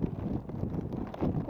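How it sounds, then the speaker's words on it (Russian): Strong wind outdoors on a street, buffeting the microphone with a low, steady rumbling roar that stays fairly quiet and unbroken. "О, мамочка, ветер."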